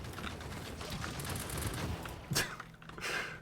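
Automated turrets fire in a video game, a dense rattling fusillade of rapid shots running throughout at moderate level, with a couple of sharper bursts near the end.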